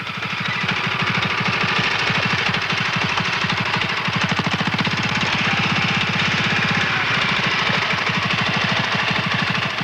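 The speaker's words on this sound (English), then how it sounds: "With the engine running, the power unit can now be driven to the other end of the field" A farm power unit's engine runs steadily in an open field, a loud continuous rapid knocking chug that holds an even rhythm throughout with no voices.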